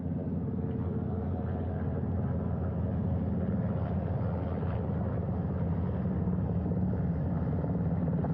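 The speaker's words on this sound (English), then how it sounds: "The first helicopter coming in." Steady, heavy helicopter rotor drone with a deep rumble as it lands on a ship's flight deck, continuous and fairly close, holding level throughout with no talking.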